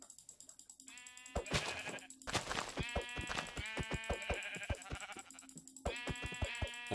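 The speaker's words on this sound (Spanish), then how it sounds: "Ovejitas. Voy a matarlas." Sheep bleating in the Minecraft video game, several loud repeated bleats in quick succession that overlap each other, mixed with other in-game sound effects and short percussive clicks.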